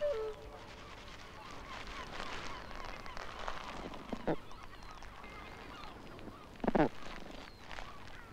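Barnacle geese honk at a nesting territory, giving a few short, faint calls scattered over quiet outdoor background, with one brief burst of clustered honks.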